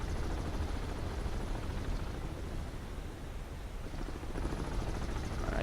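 A Soviet dual-rotor helicopter in the submarine video game Cold Waters gives a steady, muffled rumbling drone that dips slightly mid-way and then swells again, with no voices.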